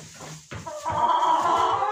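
Purebred chickens on a farm in Orenburg in winter, clucking and calling in a busy, continuous chorus that grows louder partway through, with no talking.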